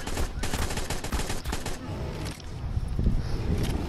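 Dense bursts of gunfire in the video game Ark, rapid overlapping shots loud and close in the first half, then thinner scattered fire with rumbling impacts.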